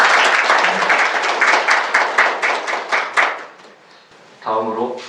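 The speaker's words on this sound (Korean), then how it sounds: "다시 한번 박수 보내드립니다." Audience claps at the opening ceremony of an academic institute, a close, loud round of applause with distinct rhythmic hand claps that thins out and stops before a speaker's voice returns.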